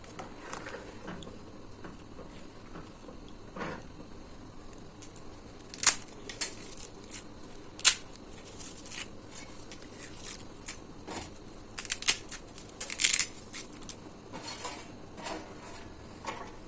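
Dry ash reshteh noodles for Persian noodle soup are broken and cut over a pot, giving scattered crisp snaps and clinks against a quiet background, with a few sharper cracks clustered near the end.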